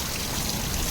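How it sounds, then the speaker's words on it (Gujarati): Heavy monsoon rain falls steadily on a village near Rajkot, a dense continuous hiss of drops with no breaks. "પવન ધીમો પડી ગયો છે વરસાદ એક રસ થઈ ગયો છે વરસાદ પણ સારો પડી રહ્યો છે"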